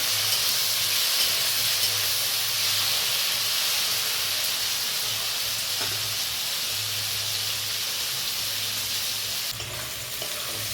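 Prawns coated in salt and turmeric frying in hot oil, a loud, dense, unbroken sizzle and hiss holding steady for about ten seconds, no voices.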